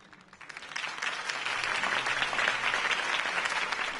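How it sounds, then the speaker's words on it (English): Crowd applause swells and holds steady, loud and dense, following a campaign speech by Harvey Dent in the Batman Telltale video game. "could have heard that applause"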